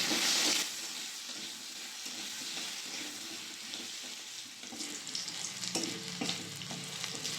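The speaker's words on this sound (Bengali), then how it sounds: "এখানে একটা আলু কেটে রেখে দিলাম, এই তেলের মধ্যে ভেজে নেবো" Cut potato pieces dusted with turmeric fry in hot oil, giving a steady, close sizzle with stirring scrapes throughout and a brief water-like hiss near the start.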